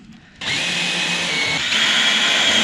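A power drill whines steadily as it drives screws without pilot holes into corrugated roofing on a greenhouse, a continuous loud motor drone starting abruptly and holding for a couple of seconds.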